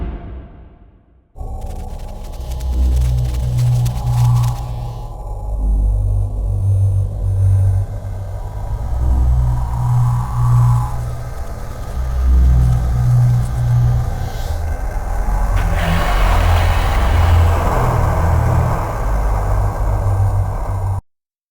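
A deep, heavy rumble of a vehicle ride in the Hellnight video game rolls on for about twenty seconds, with low droning engine tones that swell and shift, and a brighter roaring wash building toward the end.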